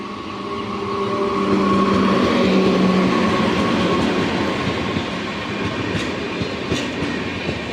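A train rumbles in slowly and loudly to a stop at Lushala station for a main-line crossing, wheels clattering over the rails with a low steady drone and faint squeals, no voices heard.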